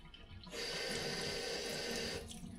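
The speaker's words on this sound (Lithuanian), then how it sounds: "Kartais mėgstu aš rankom plauti indus, pasiteknuot po vandenį." Tap water runs steadily into a sink while dishes are washed by hand, a continuous splashing rush that starts after a moment and cuts off near the end, with faint clinks and no voices.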